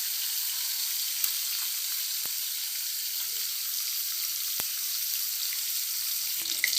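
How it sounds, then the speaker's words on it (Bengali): Tilapia fish fry in hot oil with a continuous, even high sizzle, a few sharp pops cutting through, heard close and alone with no voices. "আমার তেল গরম হয়ে গেছে, এবার আমি মাছটাকে এক এক করে দিয়ে দেব।"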